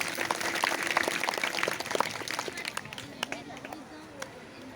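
An audience claps loudly in honor of Bhargava Parshuram during a staged Lakshman–Parshuram dialogue performance, a dense burst of applause with crowd murmur that gradually thins out over several seconds.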